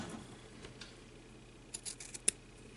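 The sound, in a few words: cutting a piece off for a candy bar gift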